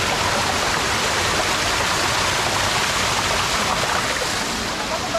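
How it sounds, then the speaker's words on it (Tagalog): Steady broadband rush of a waterfall at a river camp in Tuba, Benguet, a constant loud wash of falling water filling the whole clip with no break. "Oh, ito na ba yun? Yung waterfalls?"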